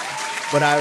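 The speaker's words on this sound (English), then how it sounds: "we're going to clap that up" Audience applause from a crowd at a show, applauding a public school teacher in her 27th year of teaching in Plainfield, a steady wash of clapping with a voice and rising tonal sounds near the end.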